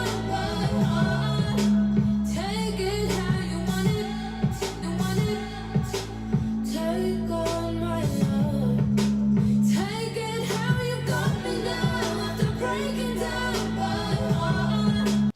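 The recorded song, produced by Felix Joseph, plays continuously, with a steady bass line, rhythmic beat and layered melodic parts, at an even moderate level throughout.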